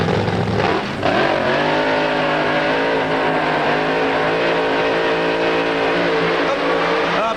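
A loud, close alcohol funny car engine roars at an IHRA drag race, a steady, dense, high-revving blare that fills the whole stretch with only a brief dip near the start.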